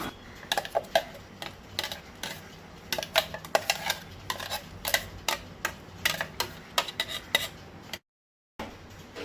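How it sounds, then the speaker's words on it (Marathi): A spoon stirs cooked chickpeas and cowpeas in a pot, giving repeated close clinks and taps against the metal in an uneven rhythm, with a short silent gap near the end. "सगळें आतां मिक्स करून घेता"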